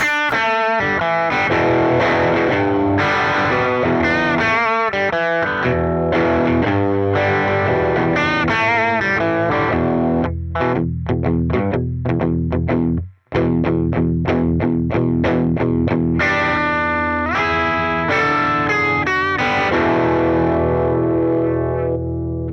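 An electric guitar through a Tube Screamer overdrive pedal, with a gritty overdriven tone, plays chords and ringing notes throughout, loud and sustained, with one brief drop to near silence midway.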